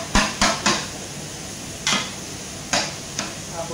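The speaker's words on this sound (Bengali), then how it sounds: "তারপর একটা নাড়া দিয়ে ভালো করে কষিয়ে দেব" Spice paste frying in a pan for an Arabic chicken and rice dish, stirred with a utensil that strikes the pan in sharp, irregular clinks, three quick knocks then a few spaced ones over a steady sizzle-like hiss, close and moderately loud.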